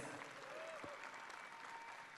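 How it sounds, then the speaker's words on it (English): Pageant audience applauding the reigning Mr. International, a steady spread of many hands clapping at a distance, faint and even, with a brief tonal sweep partway through. "a round of applause to our current Mr. International, Neil Perez"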